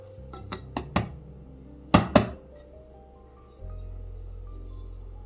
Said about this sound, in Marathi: आपण हा आता डिमोल्ड करून घेऊया